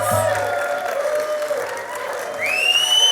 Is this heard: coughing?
no